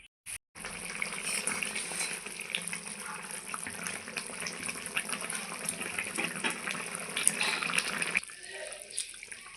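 Papaya, potato and soybean curry in a pan after water is added, giving a steady close hiss of bubbling and sizzling that cuts off near the end.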